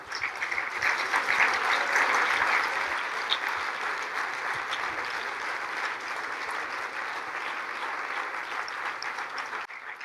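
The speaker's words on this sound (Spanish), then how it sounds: "Y ahora sí que se ha ganado un gran aplauso." Sustained audience applause after a conference talk, a dense, even wash of many hands clapping that holds steady for about ten seconds, gradually easing slightly, with no voices on top.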